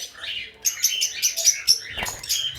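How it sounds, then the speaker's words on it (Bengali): Two female green opaline budgerigars chirp in a bird aviary, a run of quick bright twittering calls close by, with a slight flutter near the end. "আর এইখানে দেখায় আমার দুইটা সুন্দর সুন্দর এই যে গ্রিন অপালাইন পাখি"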